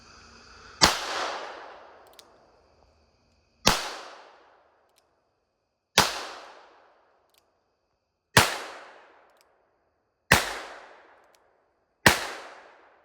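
Six .38 Special shots from a Smith & Wesson Model 31 revolver loaded with 156-grain lead round-nose rounds, each a sharp, loud crack with a short decaying tail, spaced about two seconds apart with silence between.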